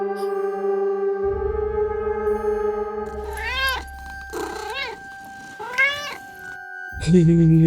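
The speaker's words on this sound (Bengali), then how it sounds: "এটা বিড়াল ছিল" A cat meows three times in rising, drawn-out calls, close and fairly clear, over a background of steady music that drops away partway through.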